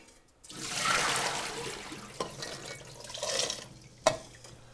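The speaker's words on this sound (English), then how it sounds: "So I'm just going to drain the beans." Water from beans soaked overnight pours out as they are drained, in two close, splashy bursts separated by a quieter trickle, ending with a sharp clink of the pot.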